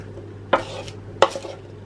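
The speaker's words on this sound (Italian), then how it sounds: "Quindi adesso mescolo per bene, perché ho messo l'olio sotto." A utensil stirs potatoes with oil, salt and rosemary in a pan, two distinct scraping clanks against the metal about half a second apart, each followed by a soft rustling tail, close and clear with no talking.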